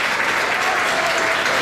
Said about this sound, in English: let's give it up for our Mistress of Ceremony